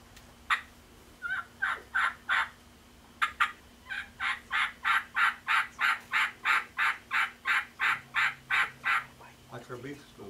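A hand-operated turkey call imitating a wild turkey hen, giving a long run of evenly spaced, rhythmic yelps that build in a steady cadence, close and clear over a faint hum.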